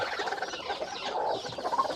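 A brooding hen sits on her nest of hatching eggs and gives low, rapid, continuous clucks and murmurs at close range, with no other sound.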